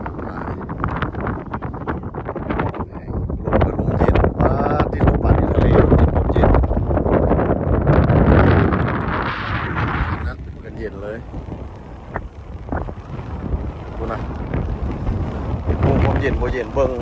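Cold, dry wind gusts across the summit of Hua Lon mountain, roaring steadily against the microphone with swelling surges, while a person talks over it throughout.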